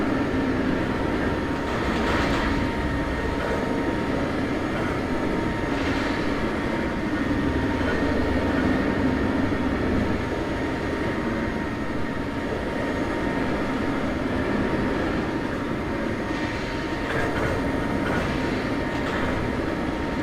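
A freight train rumbles along in Trainz Railroad Simulator 2019 with a continuous, heavy rolling roar and faint clatter of the wagons, steady and close, with no talking.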